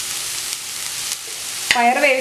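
Cluster beans sautéing in oil for kothamara thoran give a continuous close sizzle, followed near the end by a brighter, louder burst of frying with a tonal squeal.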